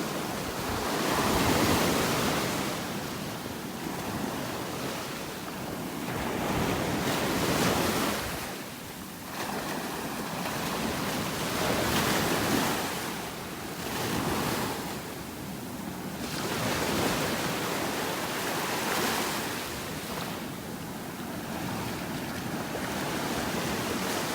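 Ocean waves roll onto a beach in North Naples, Florida, with surf swelling and breaking in repeated surges every few seconds. The sound is a steady, broad wash with some wind noise and no talk.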